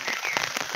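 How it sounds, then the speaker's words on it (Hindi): Steady rain falling in open air heard from beneath an umbrella, a dense continuous patter of drops striking surfaces, fairly loud and even throughout with no voices. "बारिश ही बारिश है, ये देख सकते हैं आप।"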